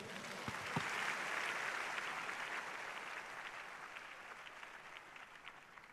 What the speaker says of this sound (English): You are clapping for Jesus.